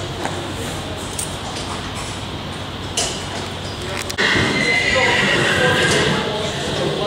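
A horse whinnies and shifts about in a large echoing air cargo hangar, with loud mechanical rumble and clatter swelling midway through.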